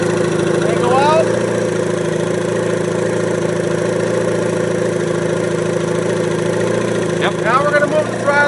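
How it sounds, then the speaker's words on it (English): An Evinrude E-Tec outboard motor idles at low throttle with a steady, even mechanical hum, loud and close. Voices talk briefly over it near the start and again near the end. "You bring the throttle all the way back to idle."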